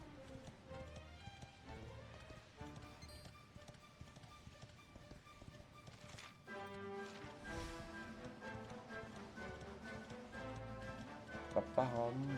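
Horse hooves clip-clop in a steady trotting rhythm in the video game Dragon Quest XI S, faint and mixed with game music throughout.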